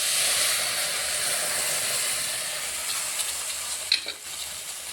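Milk hits red-fried semolina in a hot pan, giving a loud, continuous sizzle and hiss with a few sharper bursts near the end.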